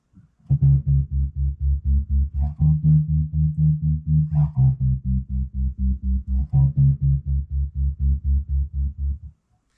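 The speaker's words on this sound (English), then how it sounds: "I want it to just be like a smooth, warm, like a heartbeat pulse thing." A warm, smooth synth pulses in a steady heartbeat-like rhythm, low and rounded, with a soft tone shifting pitch every couple of seconds.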